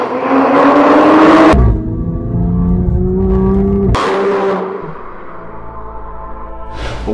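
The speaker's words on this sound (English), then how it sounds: "the exhaust opens up and gives you more sound, more pop, if you will." A 2020 Toyota A90 Supra Launch Edition 3.0 with an AIMGAIN custom valved exhaust revs loudly and close, with sharp throttle blips, a sudden cut, then another rising rev and a settling burble.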